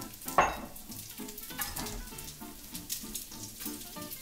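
Split peas sizzle and crackle in hot olive oil in a pan, a steady close frying hiss with small pops and stirring, no voices.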